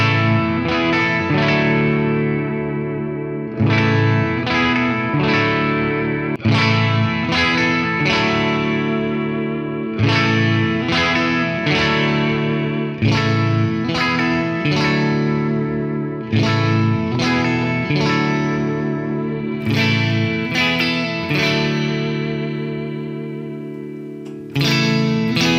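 A Donner DST-700 electric guitar, freshly strung with D'Addario mediums, plays loud strummed chords through distortion, chorus and reverb effects in steady rhythmic bursts with sustained ringing, alone without talk.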